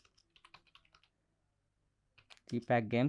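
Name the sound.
typing on a computer keyboard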